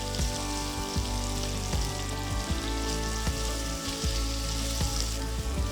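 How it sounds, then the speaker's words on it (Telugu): Two large, thinly sliced onions sautéing in a pot for a one-pot pulao give off a loud, steady sizzle that fills the whole stretch, with faint regular clicks and no voices. "జస్ట్ ఒక టూ టు త్రీ మినిట్స్ మనం ఉల్లిపాయలని సాటే చేసుకోవాలి"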